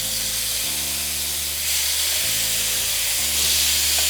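Carne asada steak sizzles loudly in a hot pan, a dense, steady hiss close up with a low hum underneath and no pauses.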